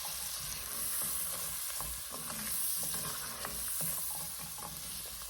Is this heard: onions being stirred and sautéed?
yes